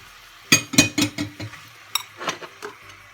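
Tomatoes go into a pan of vegan peanut sauce with a few close clinks and knocks of a utensil against the pan, spaced irregularly over a quiet background.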